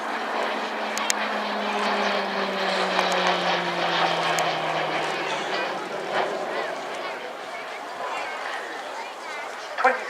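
Aircraft breaking into the circuit at the RAF Cosford airshow, a steady engine drone with a slowly falling pitch as it passes, heard outdoors amid crowd and commentary voices.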